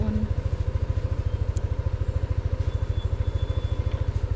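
A motorcycle engine idles nearby with a steady, rapid pulsing beat, even and continuous throughout, with no speech over it.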